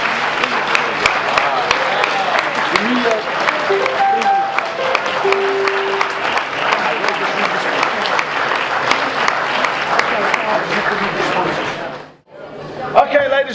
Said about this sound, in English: give Pamela another round of applause, please